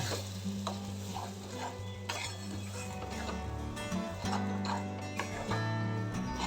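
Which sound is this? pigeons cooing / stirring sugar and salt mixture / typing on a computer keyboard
stirring sugar and salt mixture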